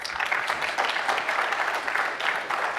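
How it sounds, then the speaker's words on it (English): Sustained applause from a crowd, a dense steady patter of many hands clapping throughout, fairly close and loud. "spontaneous applause here to that."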